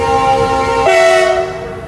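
A Vasco da Gama DEMU train sounds its horn in a loud, sustained two-tone blast that shifts pitch partway through and then fades, heard alone over faint station ambience.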